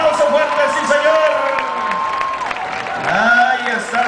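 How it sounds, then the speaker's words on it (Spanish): A large crowd cheers, whoops and applauds loudly at a 2010 charreada event in La Petatera bullring in Colima, sustained and near, with shouts rising toward the end. "¡Venga el aplauso fuerte, sí, señor!"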